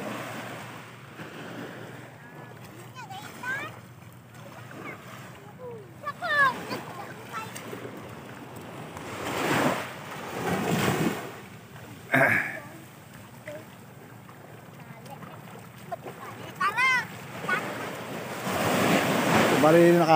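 Ocean waves wash onto a beach shoreline, swelling and breaking in repeated surges with steady wind noise buffeting the microphone, while voices talk intermittently over the surf.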